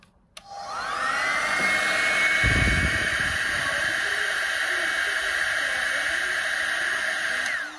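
A Philips 5000 air styler switches on and blows air at its low setting, a steady whirring hum that holds for several seconds before cutting off.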